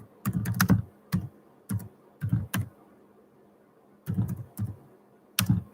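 Bursts of typing on a computer keyboard, clusters of close, crisp key clicks separated by short pauses.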